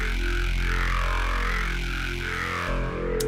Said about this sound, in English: And finally with the Wow Filter